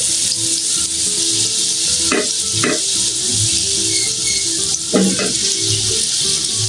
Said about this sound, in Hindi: ताकि यहाँ हमारा अच्छा सा लहसुन पक जाए।